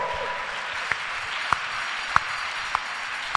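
A church congregation claps together in a steady wash of applause, with a few louder individual claps landing at roughly regular intervals.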